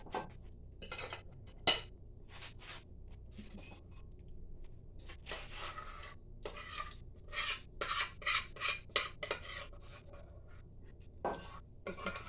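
Mashed potato scraped and spooned into a bowl, a series of close, soft scraping and rasping strokes with occasional light clinks of utensil against dish, irregular and quiet between strokes.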